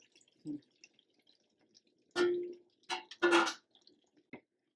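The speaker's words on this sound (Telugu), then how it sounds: "ఇప్పుడు వాటర్ పోసుకుందాం" Several short splashy bursts of water poured into a pot, a few quick pours separated by pauses, fairly close and with no talking.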